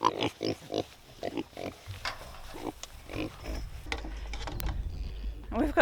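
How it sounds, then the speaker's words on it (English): Piglets on a New Zealand homestead farm grunt and oink in short, repeated bursts close by, with low farmyard rumble beneath and occasional human talk mixed in. "We've got 2 new little piggies."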